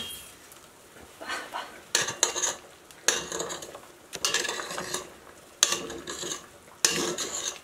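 Metal lid clanks repeatedly on a cooking pot of chickpea soup, sharp clattering contacts recurring about every second or so, close and fairly loud, with scraping and handling noise between the hits.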